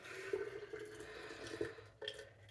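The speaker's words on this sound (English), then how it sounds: "I'm going to pour this hot water" Hot water pours into a bottle in a soft, quiet trickle with gurgling as the stream wavers, then a brief louder splash near the end, close and faint.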